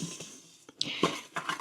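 Steel cut oats and cinnamon stirred in a multicooker pot, soft scraping and a few light utensil clinks against the pot in short, irregular bursts, close and quiet.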